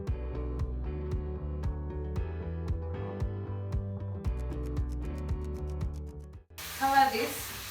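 Minced meat with salt drops into hot vegetable oil and bursts into a loud, steady sizzle near the end, after a stretch of background music.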